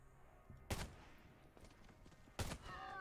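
Gunfire in the survival shooter game Undawn, with two sharp, loud shot bursts about two seconds apart over quiet game ambience and faint background sound.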